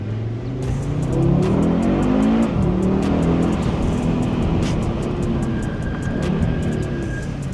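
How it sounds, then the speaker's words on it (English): Audi 8Y RS3 five-cylinder turbo engine on a bumpy road, loud close droning roar that rises and dips as it downshifts, with repeated sharp hissing blow-off valve pulses. "you just hear this symphony of 5 cylinders, turbo induction, turbo blow-off valves"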